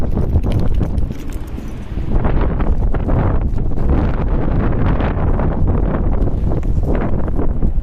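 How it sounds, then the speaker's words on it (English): Strong wind buffets the microphone outdoors, a loud, continuous low roar with gusty surges throughout and no voices. "This wind is terrible."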